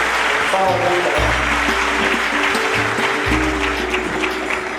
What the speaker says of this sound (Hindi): सभी एक बार ताली बजाकर आप उनका उत्साहवर्धन करें।